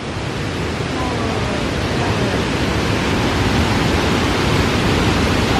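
A constant, dense roar of rushing water fills the whole stretch without letting up, loud and close, like falling water crashing nearby.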